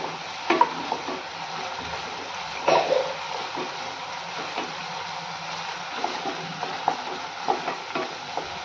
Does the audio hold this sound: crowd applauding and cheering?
no